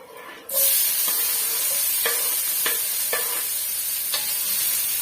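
Steady loud sizzling of chopped onions frying in hot oil, with several scraping stirs of a utensil against the pan at irregular intervals.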